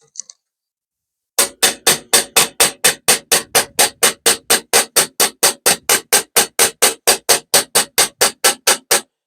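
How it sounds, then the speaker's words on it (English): A planishing hammer taps sheet metal for a custom panel, a fast, steady run of about thirty sharp metallic knocks close by. The taps stay even in loudness and spacing, with no talking. "when I'm using my plenishing hammer, I'm doing this motion. I'm actually pulling the metal in that direction. Not hard taps, fast, gentle taps, rapid, gentle taps."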